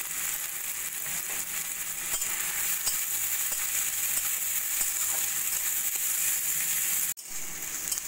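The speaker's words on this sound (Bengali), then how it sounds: "সব কিছু আমি তেলের মধ্যে দিয়ে দেবো বড় সাইজে 2টো কুচিয়ে নেওয়া পেঁয়াজ।" Chopped onions, green chillies and grated ginger sizzle loudly in hot oil in a pan, a steady, close frying crackle with faint stirring, briefly cut short near the end before resuming.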